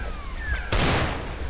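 A single sharp gunshot from a weapon in Firefight Reloaded cracks out close and loud partway through, then rings off in a brief decaying tail over a steady background hum.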